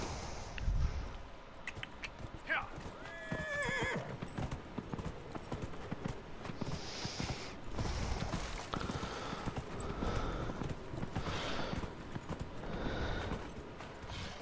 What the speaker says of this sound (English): Come here, horsey.